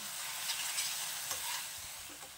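Coriander leaf pickle being stirred in a pan just after sugar goes in, giving a soft, faint scraping and sizzle with a few light spoon knocks, low in level and alone.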